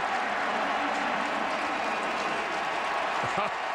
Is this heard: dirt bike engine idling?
no